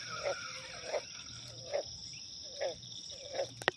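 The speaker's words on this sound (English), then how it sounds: "Yeah, frog's laughing at me." A frog by a river gives five short croaks spaced about a second apart, over a steady chorus of crickets and insects outdoors.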